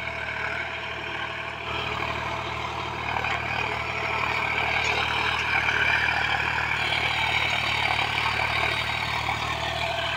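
A John Deere 5105 tractor engine drones steadily under load pulling a cultivator, a low diesel chug with a rising mechanical whine as it works, continuous and close.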